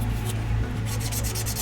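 UV putty is sanded on a 3D printed model kit, heard as a continuous close abrasive rubbing with rhythmic back-and-forth strokes toward the end.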